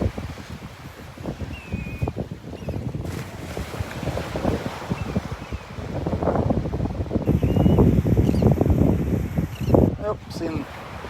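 Strong wind gusting on a Gulf beach at Delnor-Wiggins during a morning walk, a steady rushing roar with buffeting bursts that swell louder toward the end, with a voice speaking briefly in places.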